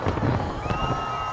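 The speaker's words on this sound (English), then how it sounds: "Colorful fireworks lit up the sky above Sydney Harbour." New Year's fireworks over Sydney Harbour in 2021: a quick run of distant pops and crackles with a thin rising whistle, heard against a low wash of wind and crowd noise.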